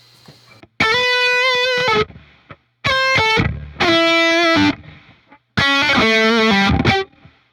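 Distorted electric guitar chords through a REVV amp with amp reverb ring out in four loud bursts, each cut off sharply, with a washy reverb tail lingering into the short gaps between them.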